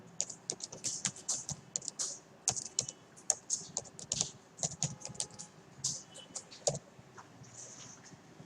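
Steady rapid keystrokes on a computer keyboard while PHP code is typed, an irregular run of close, crisp clicks with brief pauses, alone without talk.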